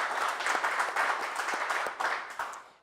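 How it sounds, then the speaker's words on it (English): Audience applause at a Topeka Jazz Workshop event, a steady wash of many hands clapping at moderate level through the whole stretch, slightly fading near the end. "something to give another round of applause for"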